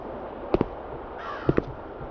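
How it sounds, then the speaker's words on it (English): Crow cawing in the game Root Of Evil: The Tailor: a short raspy caw sits between paired sharp clicks or knocks, over a steady low ambient hum, with no voices. "that crow's still back talking to me."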